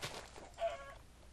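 Chickens cluck in a video game, a faint short burst of clucks heard alone without talking.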